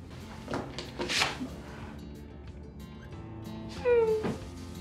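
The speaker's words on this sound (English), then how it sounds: "she didn't happen to be a cat, did she?" A cat meows close by in a children's comedy series scene, a couple of distinct cries, one early and a louder drawn-out one near the end, amid faint background rustle.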